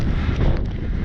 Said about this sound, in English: a little bit windy, but not as windy as it's been